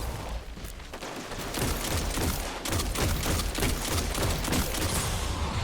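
Rapid gunfire with grenade blasts in Destiny 2 combat against captains and a vandal in a Platinum Empty Tank Master Lost Sector, a dense, continuous volley of loud shots and booms with no talk.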